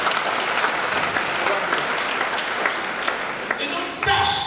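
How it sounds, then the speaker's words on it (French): A church congregation claps and cheers throughout. The applause is loud and sustained, with a preacher's voice speaking over it. "acclamez le Seigneur"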